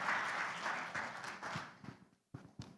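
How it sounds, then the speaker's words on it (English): Brief applause from an event audience honouring community groups at the Fanhita 2023 gathering, moderately loud at first and then thinning into a few scattered, separate claps before dying away. "So can we please give those groups, I know folks are in here, a round of applause."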